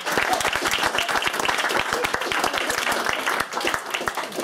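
Wedding guests applaud the bridesmaids at a reception, a dense burst of clapping from a sizeable crowd, steady and lively for several seconds with murmured voices underneath.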